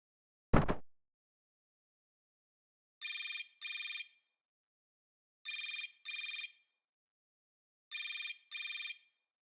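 Cell phone ringing in a video game: one sharp impact, then three pairs of electronic ring bursts spaced evenly apart, clear and alone against silence.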